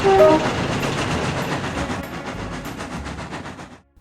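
A train rolls steadily along the track with a regular clickety-clack rhythm, a short horn note sounding at the start before the noise cuts off.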